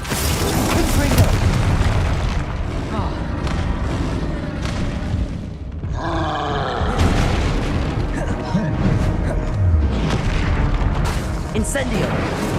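Repeated spell explosions from the Confringo fire spell in the wizarding game Hogwarts Legacy, loud booms and bursts in dense combat, with voiced spell calls and effects layered over the blasts.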